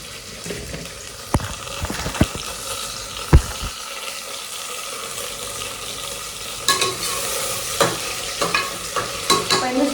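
Tea being made on a stove with milk at a home kitchen: steady hiss of heat and liquid under a string of sharp clinks and clatters of utensils against a pot, louder and busier toward the end, with no voices.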